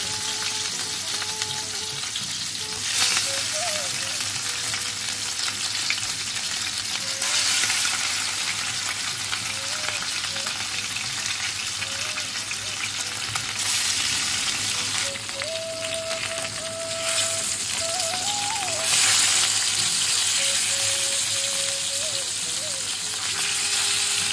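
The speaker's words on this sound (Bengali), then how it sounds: "নুন হলুদ মাখানো চিতল মাছটা এবার আমি দিয়ে দিচ্ছি" Chital fish pieces coated in salt and turmeric fry in hot mustard oil, giving a loud, continuous bubbling sizzle that holds steady throughout with faint crackle and a low background hum.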